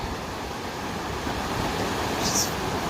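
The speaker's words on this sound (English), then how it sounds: "having come all the way down, I have reached the Rio Chama" Rio Chama river flowing, a continuous broadband rush of moving water heard up close and fairly loud, steady throughout, with some wind buffeting the microphone.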